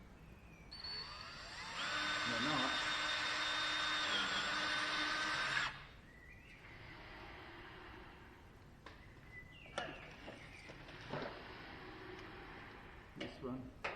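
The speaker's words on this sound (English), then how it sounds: "Let's use the battery drill." A cordless battery drill whines steadily for a few seconds while drilling out rivets on an aircraft interplane strut, then stops, leaving quiet clicks and handling sounds while someone speaks briefly.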